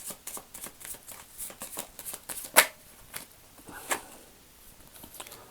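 Tarot-style cards are shuffled for a yes-no draw, giving a soft, rapid riffling patter of cards sliding against one another with a couple of sharper snaps, close and fairly quiet.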